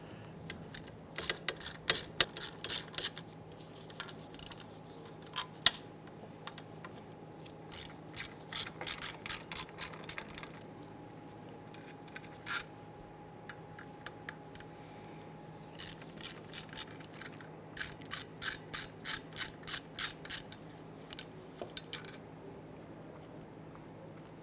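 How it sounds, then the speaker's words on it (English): A 5/16 socket ratchet loosens screws on a 1995–2001 Ford Explorer rear door, giving repeated bursts of fast, crisp clicking with quiet pauses in between, close and clear. "Using a 5/16 socket, we're going to loosen and remove these 3 screws"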